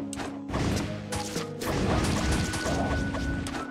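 Bombs smashing crystals in the video game Souldiers, a run of loud crashing impacts with thuds and rattling debris, dense and close, with no talking.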